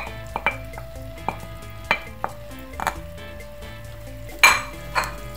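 Vegetables tossed into a hot pan for a Chinese egg noodle dish, a soft sizzle under scattered clinks and scrapes of a utensil stirring against the metal, one louder clatter near the end, no voices.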